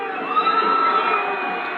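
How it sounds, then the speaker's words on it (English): A stadium crowd at a New Mexico United versus Atlante F.C. football match roars in a continuous, fairly distant cheer, with a slight swell partway through. "This crowd is unbelievable."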